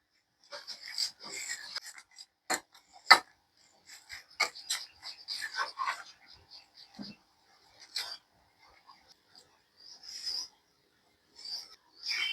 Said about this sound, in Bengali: তাই আমি একটা চামচের সাহায্যে ম্যাশ করে নেব